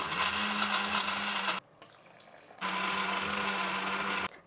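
A kitchen mixie grinds chutney made with Kashmiri red chillies, loud steady whirring motor in two bursts with a brief pause between, no talk.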